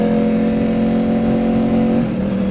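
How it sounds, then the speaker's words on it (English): A Yamaha R1 sport motorcycle with a flashed ECU revs loud and steady at high pitch, then drops slightly as it shifts gear near the end, with no talking over it. "The revs aren't dropping as much, so it's shifting a bit smoother."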